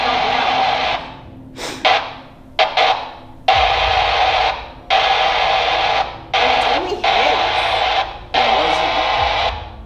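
Walkie-talkie radios squawk loudly with bursts of buzzing, Morse-code-like static that cut in and out in a choppy stop-start rhythm, two handsets close together inside an old sanatorium at night.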